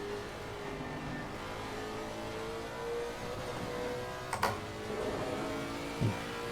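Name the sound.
Aston Martin V8 race car engine, video game Assetto Corsa Competizione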